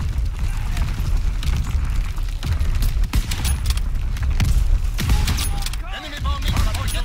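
Heavy booms and rumbling blasts from Call of Duty: WW2 multiplayer roll one after another under scattered gunfire and game voices, loud and dense throughout.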